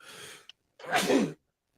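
A single sharp human sneeze, preceded by a short inhaled gasp, close and fairly loud, then silence.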